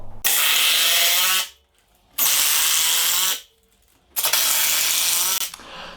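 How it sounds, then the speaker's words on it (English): A power tool drives screws through timber into a floor, running in three loud, separate bursts of about a second each with short silent gaps between them. "So now we're going to screw a bit of timber along there."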